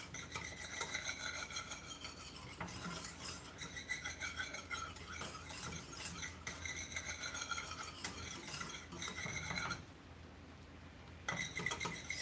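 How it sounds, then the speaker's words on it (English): A spoon stirs and scrapes through an agar mixture in a pot, a continuous rhythmic rasping and rubbing up close, briefly pausing near the end before resuming. "So I'm just gonna stir this for a minute"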